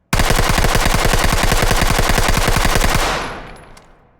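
MP5 submachine gun firing one sustained full-auto burst in the Ready or Not game, loud and close with rapid even shots for about three seconds, then an echoing tail fading out.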